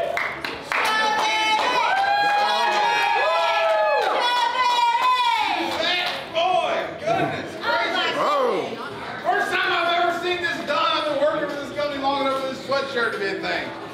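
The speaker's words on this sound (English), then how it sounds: "Cheer him on, y'all." A Nashville Dick's Last Resort restaurant crowd cheers and claps for a diner taking on the Big Meat Challenge, with loud, close shouting voices and scattered clapping mixed with excited chatter.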